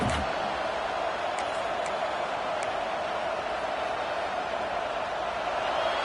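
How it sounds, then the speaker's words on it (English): A large stadium crowd at an LSU vs Oregon football game roars in a steady, unbroken wash of noise, loud and sustained, with a few faint sharp clicks above it. "This crowd bringing the energy and noise early."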